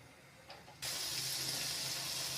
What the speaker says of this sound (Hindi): एहिमे कनी पानी जोड़ देवे